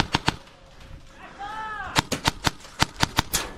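Rapid gunfire in a video game: two sharp shots, a pause, then a fast irregular string of loud close cracks, with a voice speaking briefly between bursts.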